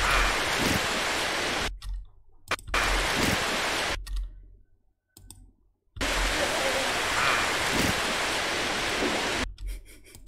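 Heavy rain added as a sound effect to a music video, a dense hiss that stops and starts several times, with brief silences between the loud stretches.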